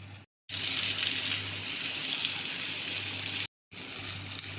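Marinated chicken fries in hot oil over medium to high flame, a steady bright sizzle and hiss close by, broken by two short silent gaps. There is no talking.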